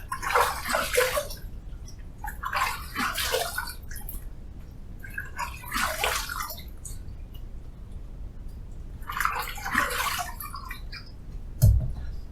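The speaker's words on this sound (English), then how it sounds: "Let me wet the face and then we'll paint this on." Water splashes against the face while wetting it for a shave, in four or five bursts of splashing and dripping separated by short quiet gaps, close and fairly loud, with a small knock near the end.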